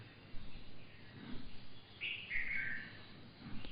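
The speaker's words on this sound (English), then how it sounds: "like this chirping of the bird" Outdoor bird chirping, a short bright burst of calls in the middle, faint against a steady background hum with soft distant noise.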